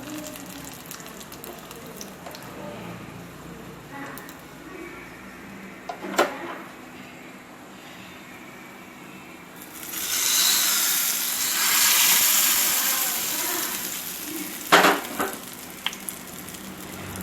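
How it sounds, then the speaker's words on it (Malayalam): Curry leaves and dried red chillies crackle and sizzle in hot oil for a tempering over a banana pachadi, a loud burst of frying that swells midway and then settles, with a few sharp clinks near the end. "നമുക്ക് കറിവേപ്പിലയും വറ്റൽമുളക് കൂടി ചേർത്ത് കൊടുക്കാം"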